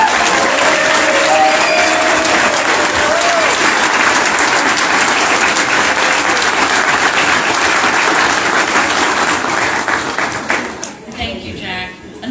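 Crowd at a ribbon cutting ceremony for the YorkTowne Hotel applauding, a dense, loud, sustained wash of clapping that fades and thins out near the end.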